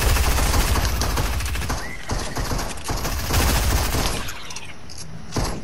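Steady rapid SMG fire in a video game, loud and close, nearly continuous bursts that thin out toward the end.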